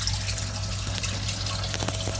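Water from a koi pond spillway pours steadily over filter media and grill, a continuous close trickle and splash with no gaps and no talk.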